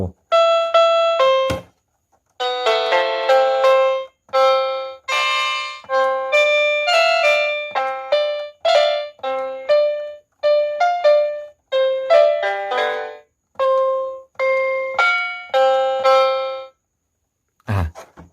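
A string of bright, clean piano-tone notes from a budget 61-key electronic keyboard plays alone, each struck and held briefly before the next, in a steady melodic run.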